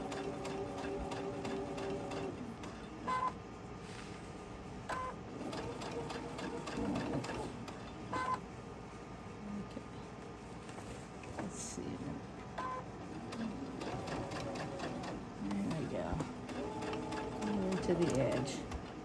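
A sewing machine stitches quilt binding along a seam line with a whirring hum in short bursts and pauses, under a person talking nearby.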